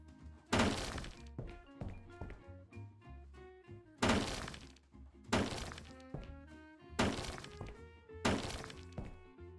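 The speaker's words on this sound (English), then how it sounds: "We just destroyed a perfectly working coat hanger and a perfectly working chair as well." Objects being smashed in the renovation game Hotel Renovator, a coat hanger and a chair broken apart: about six loud, separate thunking, crashing impacts spaced a second or two apart, over a soft tonal background.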